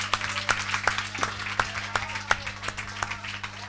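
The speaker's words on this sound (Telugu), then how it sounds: "అందరూ కూడా చప్పట్లు కొట్టండి." A church congregation claps hands together during an evening worship meeting, the sharp claps ringing out in a loose, steady rhythm over a faint background hum, with no talking.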